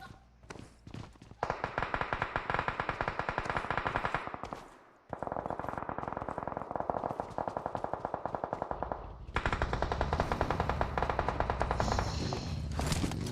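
Sustained automatic gunfire crackles in rapid bursts during a PUBG Mobile esports match, long dense strings of shots with a brief pause midway, then heavy firing resumes, loud and close.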